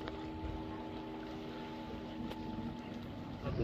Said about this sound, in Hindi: जो बोट में हम पार होंगे वो बोट आ चुके हैं और ये भिड़ने ही वाला है जट्टी पे